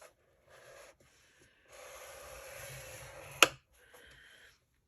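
Cardstock being scored for a Stampin' Up! mini holder and card, heard as a faint, close dry rubbing stroke lasting over a second, ending in a sharp tick, with a couple of softer scrapes around it.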